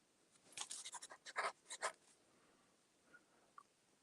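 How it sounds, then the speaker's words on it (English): A fountain pen with a scratchy nib drags across paper in a quiet room, giving several short, faint bursts of scratching strokes that then trail off into near silence. "It has a scratchy nib."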